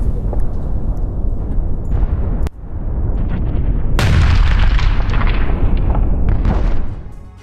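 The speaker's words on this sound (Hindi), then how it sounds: "खार्किव में यूक्रेन के आत्मघाती ड्रोन से धमाका हुआ।" Heavy explosions from Ukrainian kamikaze drone strikes in Kharkiv boom one after another, with a sharp blast midway followed by long rumbling roar and crackling debris, loud and chaotic.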